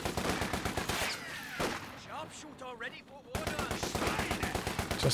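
Rapid bursts of gunfire crackle in a Company of Heroes 2 2v2 battle, loud and rhythmic, with a short pause in the middle before the volleys resume.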